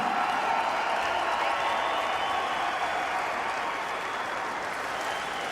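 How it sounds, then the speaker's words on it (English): A large boxing crowd applauds steadily and loudly after a welterweight bout, a dense wash of clapping that holds without a break throughout. "a huge round of applause"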